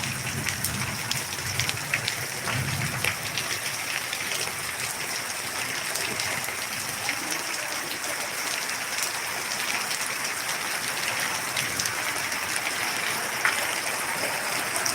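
A heavy downpour drums steadily over a village in Gujarat's Bharuch area, a dense continuous rushing hiss with scattered sharper drops, no voices heard.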